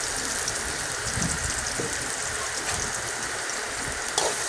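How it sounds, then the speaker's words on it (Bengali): Chopped onion and chili fry in hot soybean oil, a steady bright sizzle that stays loud and even throughout, with a faint clink near the end. "তেলটা গরম হওয়ার পরে প্রথমে আমি পেঁয়াজ কুচি ও মরিচ কুচি"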